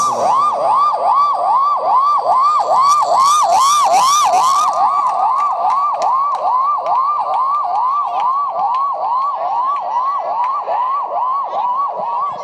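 A voice imitates an ambulance siren, a loud, steady wailing up-and-down cycle repeated many times without pause.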